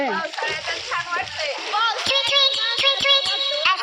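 Small children splash and jump in water during the rainy season, sharp repeated splashes and sloshing close by, with kids' voices and chatter throughout.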